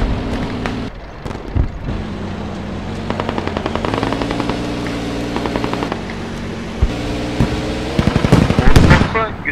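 Gunfire in the video game Squad sounds as rapid automatic bursts and scattered single shots, steady and dense throughout, with a low mechanical rumble beneath and players talking over it.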